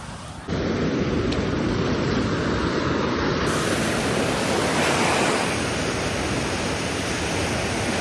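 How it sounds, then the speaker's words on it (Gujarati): Stormy sea waves crash on Madhavpur beach in a loud, continuous roar of surf that starts abruptly and holds steady, with no voices. "આ દરિયો આજે તુફાની છે"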